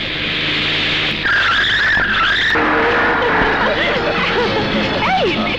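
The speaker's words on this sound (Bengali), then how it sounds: "গাড়ির স্পিড বাড়া।" A car skids and its tires squeal loudly during a chase scene in a Bangladeshi action film, with a sustained screech that rises and bends under a steady engine roar.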